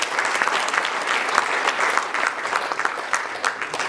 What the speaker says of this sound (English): So a big applause for KEM and all.